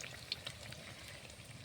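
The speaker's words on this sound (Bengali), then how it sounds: "আমি ভাজছি" Jaggery andosa frying in oil in a pan, a faint, steady bubbling sizzle with a couple of small pops near the start, with no voices.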